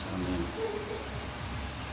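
Heavy rain falling in Patia makes a steady, soft, even hiss with no breaks, while a voice briefly says a single word.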